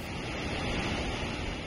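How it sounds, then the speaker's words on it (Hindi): The Narhara waterfall in Dhamtari, swollen into a river after heavy rain, gives a dense, steady roar of rushing floodwater that fills the whole moment without pause. "बारिश के बाद पहाड़ी झरना नदी में तब्दील हो गया, पानी की धारा काफी तेज है।"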